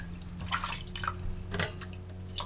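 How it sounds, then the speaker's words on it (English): Ginger root being washed by hand in a bowl of water, with close, continuous splashing and dripping broken by soft sloshes and small droplet plinks, no talk. "Wash the piece ginger,"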